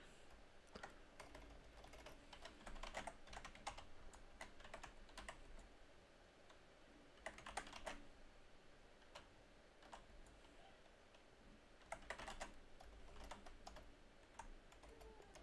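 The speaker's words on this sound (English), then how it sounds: "You can hear the shit out of my typing." Computer keyboard typing during a game stream, a steady patter of soft key clicks with occasional denser bursts, quiet and close with no talking.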